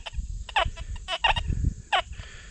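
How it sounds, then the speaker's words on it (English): A Minelab Deus 2 metal detector sweeps over a dime, giving bursts of chirpy, warbling tones in quick uneven clusters against a steady faint whine, fairly close and without talk. "all that jambalaya sound you're hearing in this detector"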